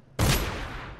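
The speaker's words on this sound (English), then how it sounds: "He seriously just shot his friend?" A single sharp gunshot in Dishonored cracks out suddenly and loudly, then fades over the following second.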